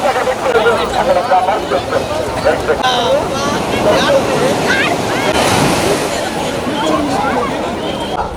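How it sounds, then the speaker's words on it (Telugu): Heavy sea surf breaks continuously on the shore at Kothapatnam beach during a storm warning, a loud roaring wash with surges and wind noise, while a crowd of pilgrims bathing in the sea and voices chatter throughout. "సముద్రం అలలు ఎక్కువగా ఉన్నాయండి"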